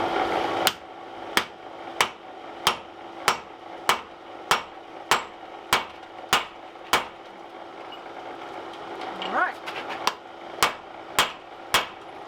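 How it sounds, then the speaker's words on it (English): Steel riveting tool being made in a workshop, struck by a hammer in about sixteen sharp, evenly spaced blows that ring out loud and close, with a brief pause partway through. "all I have to do is center this and hammer"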